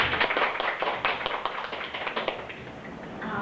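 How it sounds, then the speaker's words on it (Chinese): Audience applause welcoming a teacher at a Tibetan song concert, a short burst of many hands clapping in a moderately sized room, steady and brisk, then gradually thinning. "然后现在就我们欢迎掌声来欢迎叶老师"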